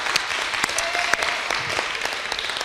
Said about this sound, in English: So a round of applause for our proposed candidates,